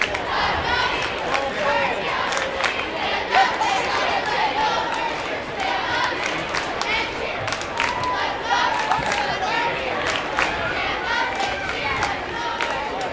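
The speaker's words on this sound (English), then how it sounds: "Both crowds cheering on their teams, loud." Basketball crowd at a boys high school game roaring continuously and loudly, a dense wash of cheering, chanting and chatter with scattered sharp claps and shouts throughout.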